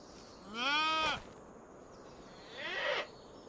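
Livestock in Farming Simulator 25 give two drawn-out bleating calls, one loud with a wavering, harmonic-rich tone and a fainter one a moment later, over a quiet background hum with no speech.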